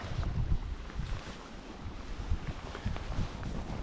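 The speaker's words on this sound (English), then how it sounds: "the wind is blowing just slightly" Wind gusts outdoors beside the Sevier River in Utah, buffeting the microphone with low, uneven rumbles and a steady airy wash, rising and falling in soft surges with no voices.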